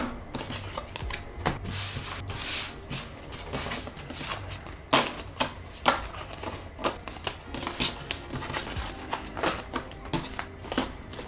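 Tarot cards being shuffled for a reading, a run of brisk riffling and rubbing bursts with sharp card slaps mixed in, close and fairly quiet, with no talking over them.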